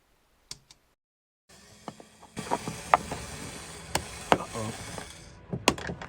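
Phillips head screws being removed from the lift gate of a 2013 Ford Edge, giving scattered small clicks and ticks from a screwdriver and loose screws against faint background noise.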